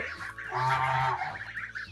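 Several Kholmogory geese honk together at close range, a burst of loud nasal calls rising and then tapering into scattered honks.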